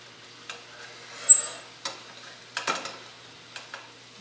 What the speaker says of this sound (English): I'm not too worried about scraping the bottom